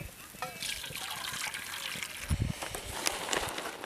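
Close, uneven trickling and splashing of hot water poured over dried prawns in a bowl, with soft clinks and handling noises throughout.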